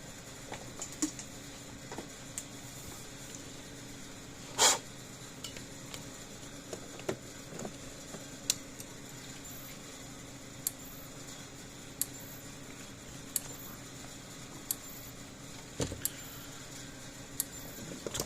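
Clicks from a DARE Enforcer electric fence energizer just after it is plugged in: sharp, evenly spaced ticks repeating about once a second over a steady low hum, fairly close and alone.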